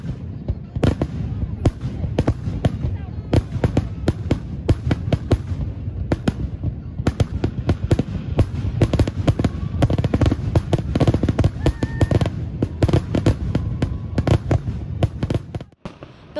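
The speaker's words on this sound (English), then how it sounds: "the fireworks being launched from a barge on the lake" Fireworks launched from a barge over Lake Orion burst in a rapid, continuous barrage of sharp booms and crackles, loud and echoing across open space with no pauses.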